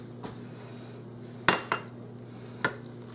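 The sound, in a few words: stirring rice and broccoli casserole in pressure cooker pot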